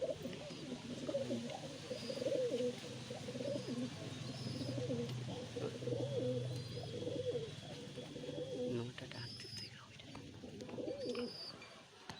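Royal Teddy pigeons coo repeatedly in soft, throaty, rolling bursts, close and steady over a low background hum, with faint chirps scattered above.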